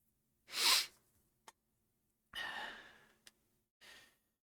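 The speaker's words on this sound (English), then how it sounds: "please excuse me if you hear me sniffling and wiping my face a few times during this" Several breathy, wet sniffs and exhales with short pauses between them, close and fairly quiet, with small clicks in the gaps.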